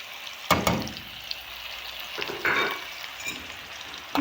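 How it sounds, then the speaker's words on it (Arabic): Chicken sizzling in a pan with spices for Iraqi red chicken tashreeb: a continuous close frying crackle, with a few louder bursts as the pieces are stirred or turned. "هسه حبايبي حمرت الدجاج كل زين، راح اضيف البهارات"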